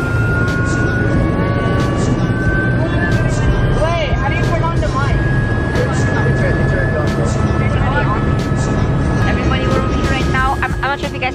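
Constant mechanical roar fills a helicopter cabin before takeoff, a loud broadband drone with whining tones, while people talk over it.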